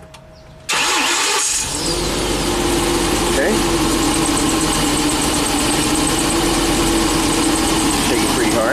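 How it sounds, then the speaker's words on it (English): Ford E450 bus with a V10 engine starts after a short crank and settles into a steady, loud idle, running rough from misfiring cylinders; a voice speaks briefly at the start. "Start the engine up."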